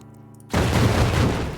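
A sudden loud bomb blast in Spelunky 2 erupts after a quiet moment, a broad booming burst that lingers and slowly decays.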